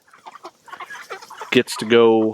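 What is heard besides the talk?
meat chickens clucking as they are let out of pasture tractor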